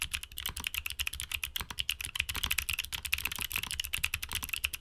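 Rapid, clicky mechanical keyboard typing, a steady stream of bright, crisp keystrokes close up with no talking.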